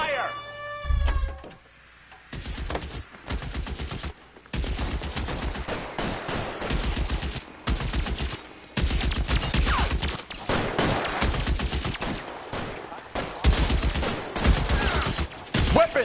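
Repeated gunfire bursts in L.A. Noire during a shootout, sharp loud volleys and rapid shots recurring through the scene with short quiet gaps, interleaved with shouted dialogue.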